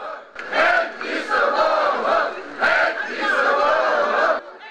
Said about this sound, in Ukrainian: Вигуками ганьба стареньку підтримали усі ошукані вкладники.